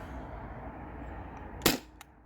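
A single sharp crack from a modified Sabre 68 HDL CO2 air gun on a 12-gram cartridge firing a Grimburg ball, close and loud against a steady background hiss, followed by a faint brief echo or impact.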